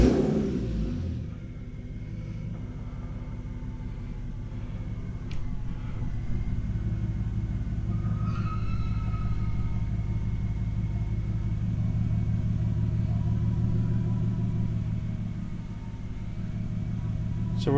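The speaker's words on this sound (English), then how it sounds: "start the car up, let it get the temperature" An engine cranks and catches, then settles into a steady low rumbling idle slightly above 650 RPM, close and continuous with faint clicks and small shifts in tone.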